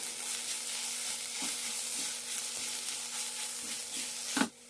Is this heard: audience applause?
no